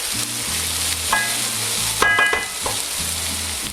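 Food is stirred in a sizzling pan, with scraping and clinking of the utensil against the metal over a constant fry and a low background hum.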